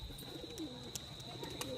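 A pigeon on a rooftop coos softly a few times, low and faint, against a quiet background with a steady high-pitched tone.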